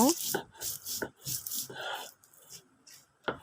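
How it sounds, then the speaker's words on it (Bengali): Peanut shells mixed with salt are ground by hand on a stone grinding slab, giving a series of rough, rasping scrapes in an uneven rhythm, close and moderately loud, with a voice partly heard between strokes. "মিশিয়ে নিয়ে এখন বাদামের খোসাগুলো আমি অনবরত এইভাবে বেটে নেব"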